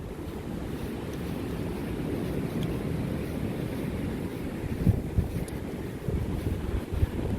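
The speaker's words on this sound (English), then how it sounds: "It's really windy up here." Strong wind on a mountainside trail roars against the microphone in a constant low rumble, with a few heavier gusts buffeting near the end.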